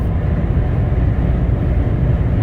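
A Mercedes-Benz E300 diesel at highway speed around 3,500 RPM, heard from inside the cabin as a loud, constant low drone with no break and no talk.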